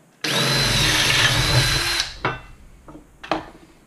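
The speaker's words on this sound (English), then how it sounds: "So I'm gonna have to drill this hole a little bigger." A power drill runs loudly and steadily for about two seconds, widening a hole so a Dell S-series monitor can take a VESA mount, followed by a few short bursts and knocks of handling.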